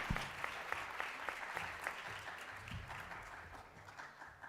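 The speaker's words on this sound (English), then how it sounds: "Let's big round of applause and thank Pujya Anandswarup Swami." An audience claps together for a swami at a student gathering, a sustained round of many hands at moderate distance, fairly quiet and even throughout.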